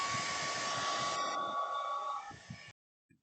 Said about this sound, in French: Et un petit coup de sèche-cheveux pour sécher le plastique